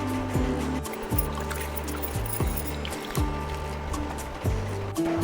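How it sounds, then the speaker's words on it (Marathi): Raw mangoes being rinsed in a vessel of water, with repeated sloshing and splashing in a regular rhythm of about one slosh per second, close and fairly loud. "आता अजून एका पाण्याने आपल्याला ह्या कैऱ्या छान स्वच्छ धुवून घ्यायच्या आहेत"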